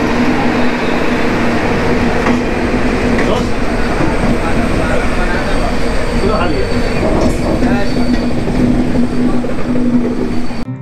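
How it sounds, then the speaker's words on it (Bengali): Kanchankanya Express train pulling into Naxalbari station, a steady loud rumble of rolling wagons with a low hum and occasional faint clacks and squeals, continuous throughout with no pause. "আমাদের ট্রেন এখন এসে পৌঁছেছে নকশালবাড়ি স্টেশনে"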